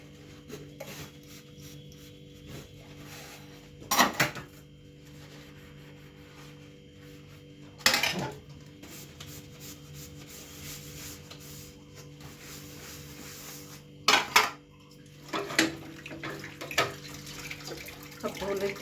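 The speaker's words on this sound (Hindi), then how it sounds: "अब धो लेती हूँ मैं बर्तन" Dishes, pots and utensils being washed at a sink: a steady wash of running water and rubbing runs throughout, broken by a few sharp clatters and scrapes of metal and crockery, close and moderately loud, with no talking.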